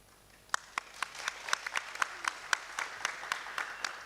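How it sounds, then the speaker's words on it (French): An audience gives applause at a talent contest, scattered sharp claps from a modest crowd, somewhat distant and fairly thin, running for a few seconds. "Mais applaudissez pour lui quand même."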